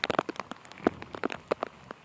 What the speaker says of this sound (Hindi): गजब का नज़ारा है बारिश